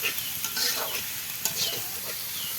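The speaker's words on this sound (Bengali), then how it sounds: "এখানে কিন্তু কড়াইতে পেঁয়াজ দিয়ে দেওয়া হয়েছে।" Onions sizzle in hot oil in a kadai-style wok while being stirred, a steady close crackle and hiss with scraping stir sounds throughout, and no talking.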